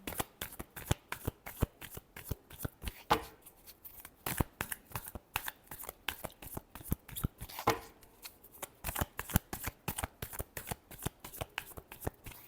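A deck of tarot cards is shuffled by hand, giving a fast, continuous run of crisp riffling snaps and flutters, close and fairly quiet, with no voice.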